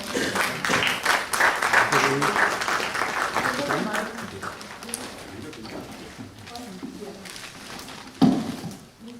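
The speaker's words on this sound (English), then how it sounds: "A round of applause for Ms. Jafar" Applause at a book launch in Lucknow, a moderate burst of clapping from a full house that thins out over several seconds, with voices talking over and after it.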